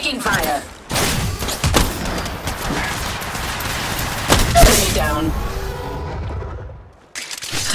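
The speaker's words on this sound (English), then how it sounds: "Open, taking fire." Gunfire in Apex Legends Mobile comes as loud, dense bursts of shots and thuds that run almost continuously, with a brief lull near the end.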